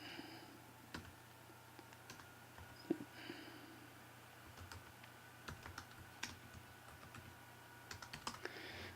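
Someone types on a computer keyboard with faint, irregular key taps and a few sharper clicks over a low steady background hum, quiet and fairly close, with no one speaking.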